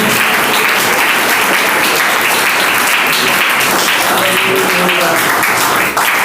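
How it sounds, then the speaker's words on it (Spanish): A church congregation applauds to the Lord during a Spanish-language sermon, loud continuous clapping with cheering voices layered through it for several seconds. "Denle ese aplauso al Señor."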